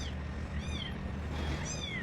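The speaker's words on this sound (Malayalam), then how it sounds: "ഒരു ആ കുഞ്ഞു പൂച്ചയുടെ ശബ്ദം വെച്ചു കൊടുക്കും" A kitten's meows played back through a mobile phone speaker, two thin rising-and-falling cries about a second apart over a low steady hum, no speech.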